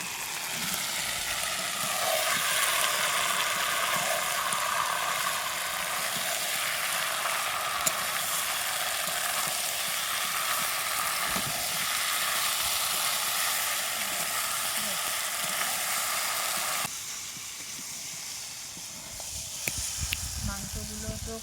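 Meat with raw jackfruit and potato fries in a pan, a steady hissing sizzle that continues for a long stretch, then drops quieter near the end with a few stirring knocks.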